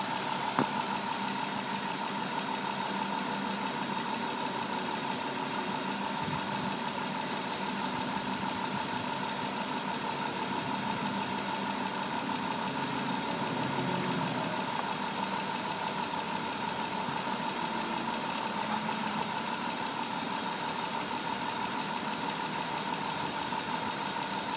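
A 2005 Chrysler Town & Country with a 3.8 engine idling, a low, even hum with a constant tone running unchanged for the whole stretch, moderately faint and alone.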